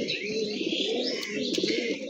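Pigeons coo steadily at close range while they feed, a continuous layered murmur of throaty calls with no voices over it.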